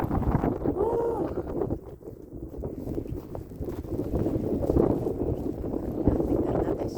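Strong wind buffets the microphone during a night storm, a steady rough rushing gust noise that dips briefly and then surges again, with indistinct voices faintly under it.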